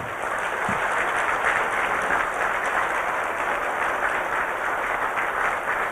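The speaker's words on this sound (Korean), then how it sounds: "한번 크게 한번 박수해 드리세요." A church congregation gives a big round of applause for mission staff, a loud, sustained blend of many hands clapping that stays steady for several seconds with no voices on top.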